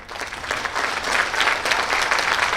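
Steady audience applause for guests at an award ceremony, a full room clapping continuously and fairly loudly with no talk over it.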